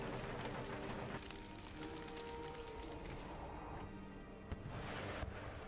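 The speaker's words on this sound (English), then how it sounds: "the howitzer shells will destroy it" Howitzer artillery fire in a siege battle in Empire: Total War, heard as a dense, continuous rumble of distant cannon booms with a few sharper bursts near the end.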